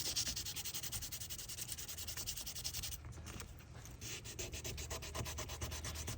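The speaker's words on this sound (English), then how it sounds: "you can see that stag coming off pretty well on the sandpaper" Sandpaper rubs a stag antler knife handle near the bolsters in fast, steady back-and-forth strokes, a close, faint scratchy rasp with a short pause midway and no talk.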